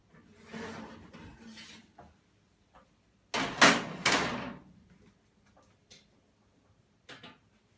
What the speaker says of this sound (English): now we're ready to take the Salmon Papillote out of the oven